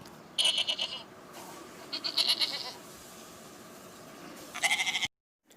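A goat bleats in three separate bursts: a wavering cry near the start, another in the middle and a final one before a sudden cutoff, each quavering and fairly close, with no talk.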